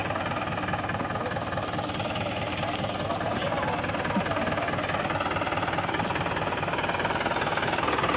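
A tractor engine runs with a steady, dense rumbling knock while hauling a trolley, loud and close throughout, with a voice speaking under it.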